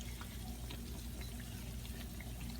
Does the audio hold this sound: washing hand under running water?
yes